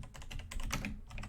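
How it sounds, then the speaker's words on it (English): Rapid typing on a computer keyboard, a quick uneven clatter of close keystrokes heard alone and fairly quiet. "Sorry, there's going to be a lot of typing."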